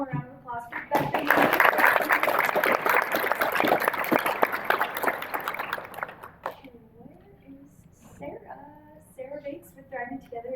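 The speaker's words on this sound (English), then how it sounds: "can we just get one more round of applause for Bethany?" Dense, loud applause from a workshop audience on a main stage swells for several seconds, then fades as a voice begins talking over the quieting room.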